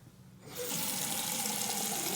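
Water gushing from a leaky faucet in a sink, starting quiet then turning on into a steady, loud, continuous stream that runs alone without talk.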